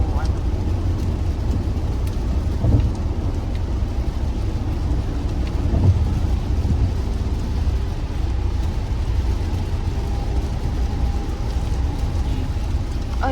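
Steady low road rumble and broadband wash of rain from inside a car moving on a busy road toward Niagara Falls, Canada, continuous and even throughout, with a couple of faint thumps.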